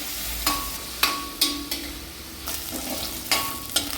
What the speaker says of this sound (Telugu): ఆయిల్ పోసుకున్నాక ఇప్పుడు పన్నీరు వేయించుకోవాలి